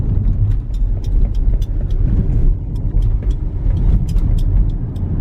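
A car drives along a road beside the Volcano Bay water theme park construction site, giving a steady, loud rumble of engine and tyre noise throughout with no talking.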